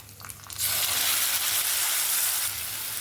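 A ground mint paste hits a hot pan already frying curry leaves and dried chillies, and it bursts into a loud, steady hiss and sizzle that carries on for about three seconds with no talking.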